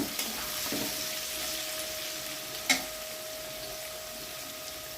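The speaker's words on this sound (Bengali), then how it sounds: "বিনস দেওয়ার পর হালকা করে নাড়াচাড়া করে নেব আবার" Sliced green beans sizzle and fry steadily in a pan for eggless chowmein, with a few soft stirring scrapes and one sharper clink of the spatula midway; no one speaks.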